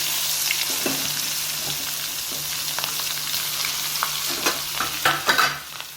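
Mustard seeds, asafoetida, green chillies and garlic crackle and sizzle in hot oil, a continuous frying hiss with sharper pops near the end, plus a faint low hum.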